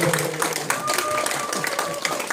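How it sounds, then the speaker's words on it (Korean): Guests at a health-counselor graduation ceremony clap in thanks for a hosted dinner. The applause is moderate and scattered, with individual claps audible and a voice running over it. "여러분도 감사의 박수로"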